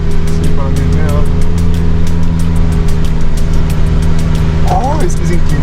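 A car engine drones steadily on a steep, tilted mountain road at Nevado El Cocuy, loud and close inside the vehicle, with a constant rumbling hum; people's voices cut in briefly near the end.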